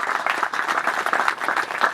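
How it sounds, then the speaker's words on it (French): Audience applauding farmers at a gathering, a dense, steady burst of clapping from a crowd at moderate distance, with no talk over it. "Et donc, nous pouvons les applaudir."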